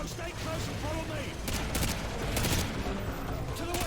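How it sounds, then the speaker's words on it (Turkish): Dense gunfire in Call of Duty: Modern Warfare 2 crackles in rapid bursts, loud and continuous, with a voice briefly heard beneath the shots. "bu silahın da fire çok güzelmiş"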